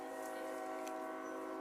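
A sustained, distant train horn holds a steady chord, droning evenly throughout at a fairly low level, heard during an outdoor live music concert.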